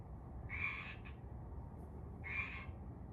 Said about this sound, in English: there's a frog somewhere nearby